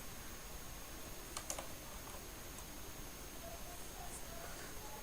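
Quiet computer keyboard typing into a Word document, soft scattered key clicks close by, with a few slightly sharper taps in the middle and no talking.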